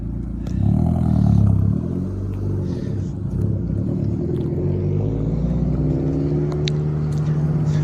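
A Mazda launching down a quarter-mile strip at a car meet near Indian Springs, Las Vegas, its engine note climbing steadily as it revs and pulls away, loud and sustained with no talk over it.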